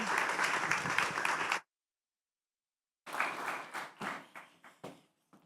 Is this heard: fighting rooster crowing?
no